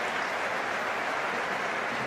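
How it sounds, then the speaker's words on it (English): The football crowd at Stamford Bridge breaks into applause during a Chelsea match against AC Milan, a continuous broad roar of clapping heard at a distance, with no voice on top. "String of applause around Stamford Bridge for that Cole Palmer pass"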